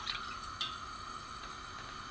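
Milk pours from a measuring cup into a pot on a gas stove, a soft continuous liquid trickle with a few faint drips, quiet and steady, no talking.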